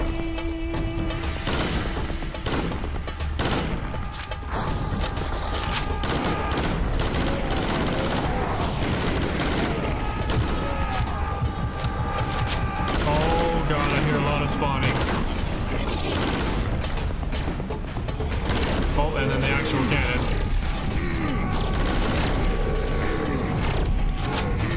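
Rapid, sustained gunfire from the Serious Sam 3: BFE video game, dense automatic bursts and booms layered with mechanical weapon sounds, loud and continuous throughout with little pause.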